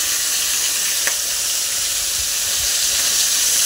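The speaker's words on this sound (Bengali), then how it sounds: "আরেকটা কড়াই রেডি করে নিয়েছি, চিংড়ি মাছটা ভাজা করে নিচ্ছি" Prawns frying in hot oil in a kadai wok, a steady loud sizzle and hiss with a faint clink near the start and soft low bumps of stirring later.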